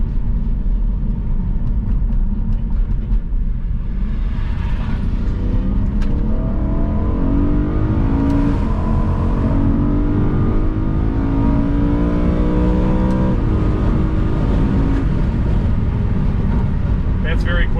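A 2008-era E93 BMW M3 convertible accelerates onto a freeway, its engine rising in pitch through the revs as a close, loud drone with road rumble, while people talk over it.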